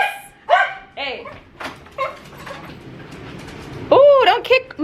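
A pet dog barks several times in sharp, close bursts spread across a few seconds, with a voice speaking in between the barks and a background rumble.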